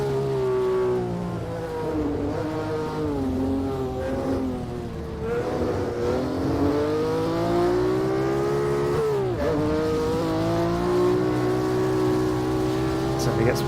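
Historic GT touring car engine in the racing game rFactor, a steady high-pitched drone that climbs and shifts through gears at sustained speed, continuous and close, with someone talking over it.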